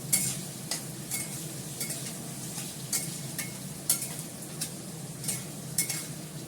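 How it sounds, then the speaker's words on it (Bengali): Onions are sautéed in a pan under a low continuous sizzle, with a spatula scraping the pan in regular strokes about every second. "ভালো করে এটাকে পেঁয়াজটাকে কষিয়ে নিই, আদা বাটা দেব।"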